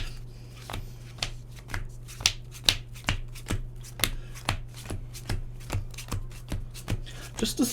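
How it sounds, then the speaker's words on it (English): Yu-Gi-Oh cards are pile shuffled, a sharp flick or snap about every half second, steady and close up with no talking. "Let's do a little bit of a pile shuffle quickly."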